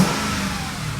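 A car engine revs through a custom exhaust with a grunty, rumbling note, holding steady and loud for about a second with no talk.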